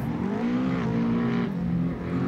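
A Subaru rally car takes a corner at the Monteils circuit, its engine droning loud and close with a shifting rev pitch over about two seconds, with no voices.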